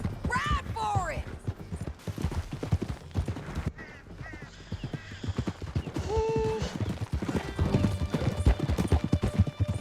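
Horse hooves gallop in steady, rapid clip-clop through Red Dead Redemption 2, with game voices, whistling tones and background music layered over the continuous ride.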